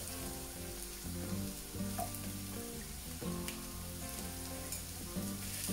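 Coriander powder sizzles steadily in a hot pan for a green tomato and chilli dip, a continuous close frying hiss with a few soft scraping stirs and no talking.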